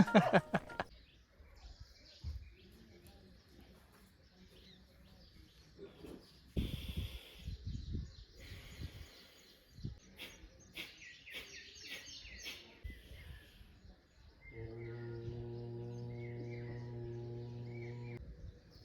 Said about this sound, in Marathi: फक्त पक्ष्यांचे आवाज आहेत वेगवेगळ्या प्रकारच्या